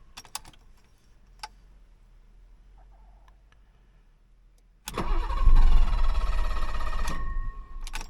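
A 1985 BMW 635 CSi, suspected of a faulty start valve, sits quiet with a few faint clicks before the starter cranks loudly and the engine sputters, nearly catching for a few seconds, then dies, close by with no talking.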